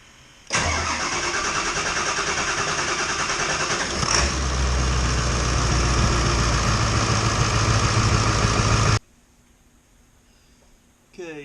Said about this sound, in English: Okay, truck fired up.